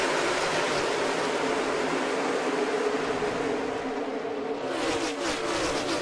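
NASCAR stock cars roar off the start at Daytona, a dense, steady wall of engine and crowd noise that stays loud throughout, with a brief shift in tone near the end.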